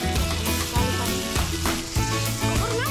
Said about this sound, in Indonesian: tumis bumbu sampai harum